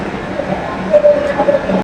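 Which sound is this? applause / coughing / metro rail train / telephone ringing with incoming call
metro rail train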